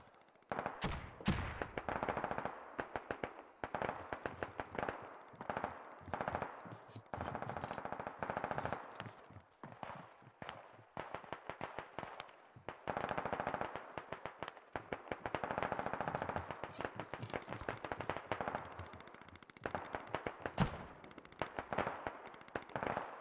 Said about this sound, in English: on top of that ridge line, that's where the AR is firing from, I think.